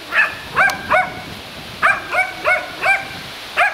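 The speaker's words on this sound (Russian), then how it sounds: "Все время лает на нас." A dog barks repeatedly in short, sharp yelps, about eight barks in quick uneven succession, fairly close and clear.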